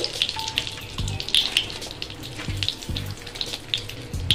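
A bay leaf and cardamom pods sizzle in hot fat in a pan while semolina halwa is cooked, giving a steady close crackling hiss with small pops and a few soft low knocks, with no talk.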